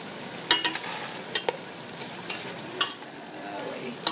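Okra stew with palm oil and jute leaf simmers in a pot, giving a steady bubbling sizzle with occasional clinks and scrapes of stirring, close and moderately loud.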